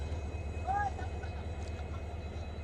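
An old Indian Railways locomotive idles in Biratnagar, Nepal, a low, steady mechanical throb that runs unbroken throughout, with a brief faint voice near the start.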